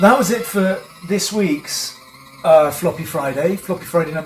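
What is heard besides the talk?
None of the usual background noises is heard.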